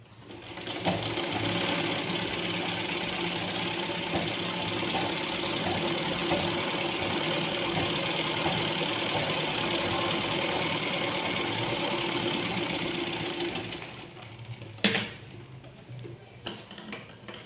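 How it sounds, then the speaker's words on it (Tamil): A sewing machine runs steadily for about thirteen seconds, stitching blind tucks in fabric with a fast, even mechanical whir, then stops, leaving a short clack and quiet handling. "இப்போ லாஸ்ட்டாக நம்ம இருக்கிற ஒன்றையும் ஸ்டிச் பண்ணிக்கலாம்."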